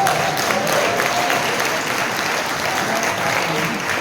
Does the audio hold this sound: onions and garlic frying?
no